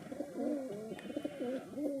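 Male pigeons resting in a flying loft coo softly, several rolling coo phrases repeating in a steady rhythm, close and quiet.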